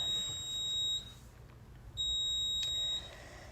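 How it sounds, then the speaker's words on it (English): A smoke alarm in a garage gives two long, shrill electronic beeps about a second apart, each lasting roughly a second, over a low background hum with no talking. "See if you can turn off that alarm"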